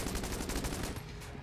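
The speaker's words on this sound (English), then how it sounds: "Extremely rapid fire used by a wiggly hero." The heck blaster in Enter the Gungeon fires in an extremely rapid, dense burst of overlapping shots, a loud continuous rattle that briefly thins before another quick volley.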